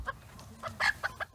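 A small Bantam Cochin hen clucks in a short run of sharp, close, evenly spaced notes, the loudest cluck near the middle, with faint background noise and no talk.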